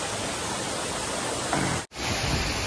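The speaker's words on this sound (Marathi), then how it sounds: "इकडे वरच्या साईडला मुख्य धबधबा होता" Nhavankond waterfall near Talwa in Devgad, a steady broadband roar of falling water filling the air throughout, loud and continuous with a brief dropout near the end.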